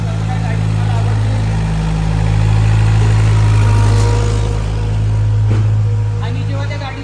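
A small farm vehicle used to carry newborn calves on a Danish dairy farm, its engine idling loudly and steadily with a low hum that swells slightly, while a person talks over it.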